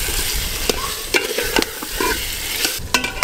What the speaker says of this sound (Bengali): এবার কিন্তু মাটনটা খুব ভালো করে কষতে হবে